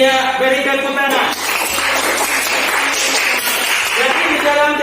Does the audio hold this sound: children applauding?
yes